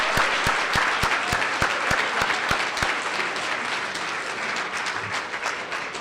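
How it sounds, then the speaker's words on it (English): Loud, continuous applause from an audience at a tenth birthday party for Wellstone Action in Minnesota, dense clapping sustained for the full stretch with a few sharp claps standing out near the start. "Let's give ourselves a big round of applause"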